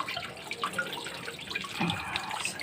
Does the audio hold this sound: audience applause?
no